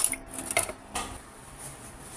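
Spoon stirring a water and cornstarch sauce in a pan for sweet and sour sauce, a few quick clinks and scrapes of metal on the pan up close, then a quiet tail, no voices.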